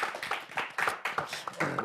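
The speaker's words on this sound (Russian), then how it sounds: "Давайте аплодируем, поаплодируем этому празднику." An audience at a World Slowness Day celebration in Gomel claps in a steady, quick rhythm of sharp hand claps, close and fairly quiet, with no talk over it.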